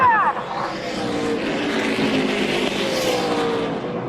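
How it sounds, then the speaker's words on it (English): NASCAR Camping World Truck Series trucks racing at Phoenix International Raceway after a restart, a loud continuous roar of several engines with rising and falling pitch as the pack passes, steady throughout with no talk. "What a great restart by Johnny Sauter"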